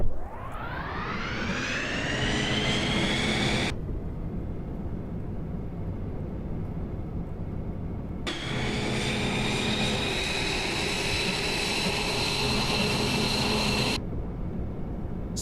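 A big airplane engine roars in a flight video game, its whine spooling up to a loud steady drone, cutting out twice and returning abruptly, with no talk over it.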